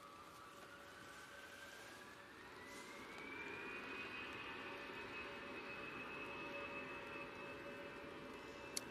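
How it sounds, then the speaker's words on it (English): An EasyJet jet airliner on its takeoff roll, heard faint and distant as a rising turbine whine that climbs in pitch and then holds, over a low steady rumble, with no talk. "EasyJet on the roll."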